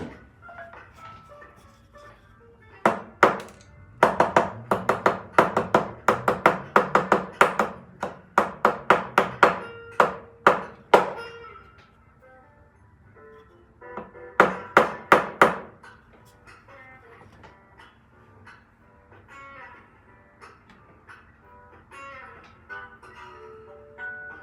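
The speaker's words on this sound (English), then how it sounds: "let's just do these the old way with a hammer and a bench block" Sharp metallic hammer taps flattening sterling silver jump rings on a steel bench block, coming in quick bursts with pauses between, close and fairly loud.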